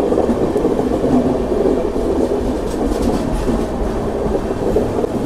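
Narayanadri Express, running an hour late, rumbles steadily along the rails with loud continuous wheel noise and light clickety-clack, close and unbroken throughout.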